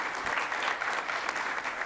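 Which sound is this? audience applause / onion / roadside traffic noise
audience applause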